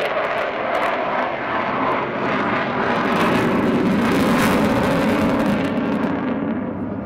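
The Avro Vulcan XH558 bomber makes a low, close pass at a Scottish airshow, and its jet engines give a continuous heavy roar that swells and rumbles at steady full loudness throughout.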